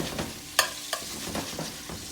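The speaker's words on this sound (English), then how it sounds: "I'm going to turn up the heat a little bit, all the way back to high, because I want to get some color on this bacon" Bacon frying in a pan over high heat, a steady close sizzle and crackle with a few sharp pops and stirring scrapes.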